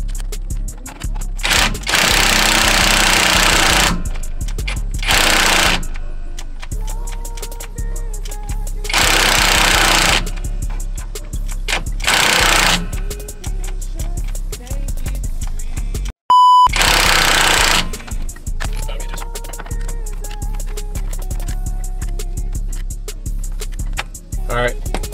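Rear strut being bolted into an Infiniti G37: loud, rattling bursts from a power tool, several seconds each with pauses between them, plus scattered clanks from handling parts at close range.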